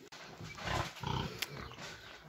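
Pig grunting at a farm pigsty with piglets nearby, a couple of low rough grunts close to the listener over quiet background.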